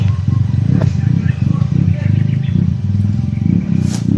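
A motorcycle engine runs with a loud, steady, close rumble and chugging pulses throughout, with voices over it.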